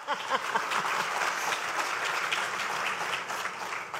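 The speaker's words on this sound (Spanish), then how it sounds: "Aplausos." An audience at a presidential candidates' forum applauds, with dense, continuous clapping at an even volume for about four seconds.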